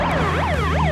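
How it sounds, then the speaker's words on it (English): A police car siren wails, sweeping up and down repeatedly, loud and close, over a steady engine hum. "A police car with a police siren."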